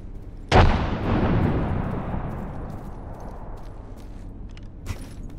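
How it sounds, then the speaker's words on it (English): A frag grenade explodes in the video game Apex Legends, one loud deep blast whose rumble slowly fades over several seconds, with a smaller pop near the end. "Frag grenade sent."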